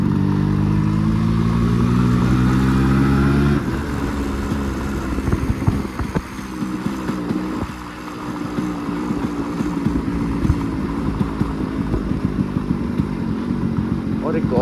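Stock Yamaha RX 135 motorcycle engine running close by, a steady idle hum giving way to rough two-stroke revving and clatter, with someone talking over it.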